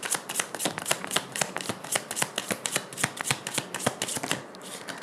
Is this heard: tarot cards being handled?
yes